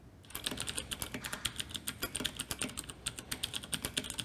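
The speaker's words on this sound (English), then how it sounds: "have a loud, audible click when the key is pressed" Clicky mechanical keyboard switches typed on in rapid succession, a dense run of sharp, close clacks with an audible click on every keypress and no voices.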